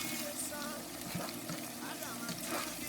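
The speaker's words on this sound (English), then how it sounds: "Frying it with the onions" Onions frying in a pan with tomatoes, pepper, crayfish and ground locust beans give a faint, steady sizzle with soft crackles throughout, heard with no talking.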